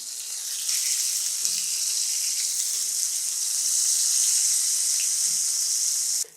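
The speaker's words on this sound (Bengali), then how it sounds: "বেগুনটাকে আমি 2 মিনিট ভেজে নিলাম" Eggplant pieces coated with turmeric, chili and salt fry in hot oil in a pan with a bright, steady hiss that holds evenly until it cuts off abruptly, with no speech.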